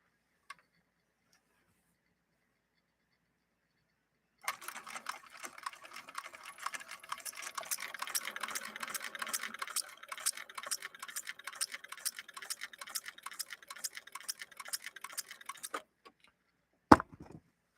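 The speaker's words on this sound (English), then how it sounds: "watch how the machine reacts differently in this long stitch mode" A Bernina Record 930 Electronic sewing machine running in long stitch mode, a rapid even ticking patter of stitches lasting about eleven seconds, close and alone, with a sharp clack near the end.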